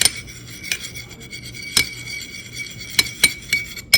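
A spoon stirs orange and green food colour into milk in a small bowl for sweet mutanjan rice, giving a few bright, close clinks against the bowl at irregular moments.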